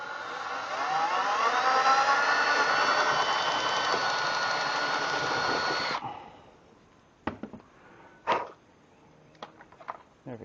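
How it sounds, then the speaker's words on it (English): A power drill boring a hole during garage workbench and shelf building, a loud steady whir rising slightly in pitch for about six seconds, then stopping, followed by a few scattered knocks and handling clicks. "go ahead and drill that hole right now"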